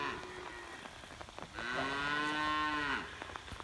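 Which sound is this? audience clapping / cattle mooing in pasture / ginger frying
cattle mooing in pasture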